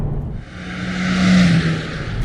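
A 2017 Honda Civic Hatchback with the 1.5T engine and a six-speed manual accelerates, its engine note rising and swelling for a couple of seconds heard from inside the car.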